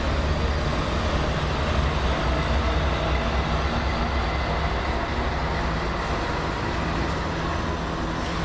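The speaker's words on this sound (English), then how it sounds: "The train consisted of empty Trinity Industries leasing rapid discharge hoppers" An empty Union Pacific freight train of Trinity rapid discharge hopper cars rolls past on Donner Pass in winter, a loud, steady rumble and wheel roar filling the whole stretch without letup.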